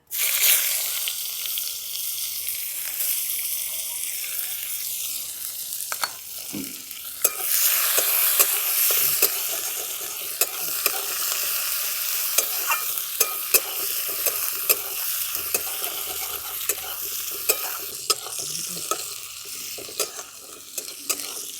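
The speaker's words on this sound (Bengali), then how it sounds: "দেখুন পেঁয়াজটা একটু লাল লাল করে ভেজে নিয়েছি" Sliced onions frying in oil with cumin seeds and dried chillies, stirred in the pan; a continuous close sizzle with frequent sharp scraping clicks of the spoon, growing louder after the first few seconds, with no talking.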